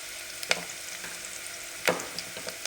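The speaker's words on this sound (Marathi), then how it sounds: "आता आवर्जून फोडणीत लसूण घालायचं याची टेस्ट खूपच छान लागते फोडणी लसणाची" Crushed garlic dropped into hot oil for tempering sizzles quietly, with two distinct stirring scrapes and light crackles scattered over the hiss.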